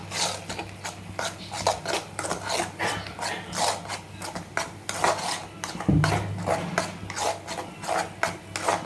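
A utensil scrapes and stirs tomatoes in a cooking pan in a steady rhythm of rough, close scraping strokes, with an occasional knock against the metal.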